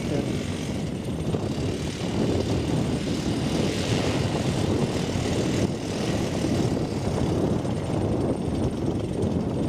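A 40% scale Jungmeister aerobatic model biplane engine drones steadily and loudly throughout as the aircraft flies, a continuous propeller roar with slight swells, and faint voices may sit beneath it.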